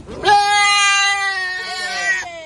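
A live goat bleats in one long, loud, wavering cry, close and alone, with a short second call rising at the end.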